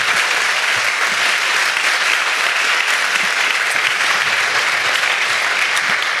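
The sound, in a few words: audience applause for students at school event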